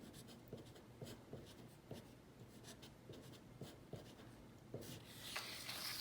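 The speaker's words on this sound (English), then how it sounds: "I'm going to rotate my paper just a little bit so I can write" Pen writing on paper during a math lesson on the unit circle, with quiet close scratching strokes coming in short rhythmic bursts, faint and continuous with no talk.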